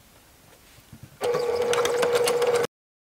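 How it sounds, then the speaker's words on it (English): A sewing machine stitches along a skirt hem, a close, steady mechanical whir with a fast rapid ticking that starts abruptly and runs about a second and a half before stopping. "I'm going to stitch along the hem again, this time with a 3/8 inch seam allowance"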